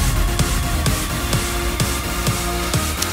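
Big layered synths built from Silent and Nexus patches play a dense, sustained electronic texture, with steady rhythmic accents pulsing through it about every half second, loud and full without any voices.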